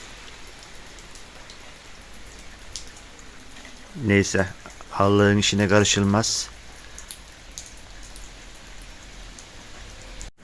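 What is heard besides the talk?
rain falling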